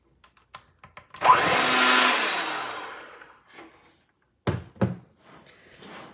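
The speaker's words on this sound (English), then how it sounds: "We're just going to blend the butter and the sugar until they" An electric mixer creams butter and sugar for ginger snap cookie dough, whirring loudly for about two seconds before winding down, followed by a few solid knocks and thumps nearby.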